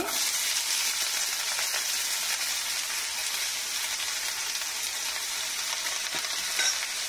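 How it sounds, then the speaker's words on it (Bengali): Onions sizzling in hot ghee in a pan for an Afghani egg curry, a steady, continuous frying hiss with faint stirring, close and alone without talk. "ঘি দিয়ে পেঁয়াজ রসুন গুলো সব ভেজে নেব। আগে পেঁয়াজ গুলো দিয়ে দিচ্ছি"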